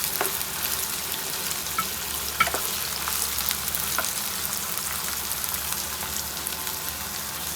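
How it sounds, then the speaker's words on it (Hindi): Chicken sizzles steadily in a pan with ground green chili, ginger and garlic, giving a constant close crackle and hiss with a few small pops while it fries for karahi. "1 से 2 मिनट अच्छी तरह से भून लेते हैं।"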